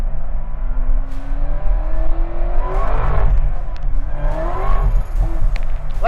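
A 2009 Chevrolet Corvette ZR1 engine revs hard under acceleration. Its loud, dense roar rises steadily in pitch, close and continuous, and climbs through a second pull, with no talking over it.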